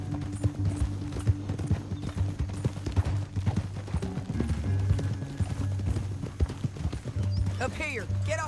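Horse hooves clip-clopping steadily in the video game Red Dead Redemption 2, a continuous trotting rhythm under music and some voices, with a horse's whinny near the end.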